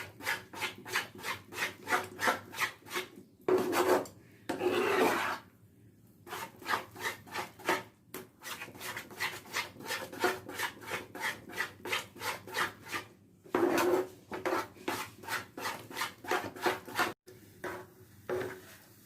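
A spatula steadily scrapes and stirs modak mixture roasting in a pan: quick rhythmic rasping strokes repeat for many seconds with a few short pauses, close and clear, with no talking.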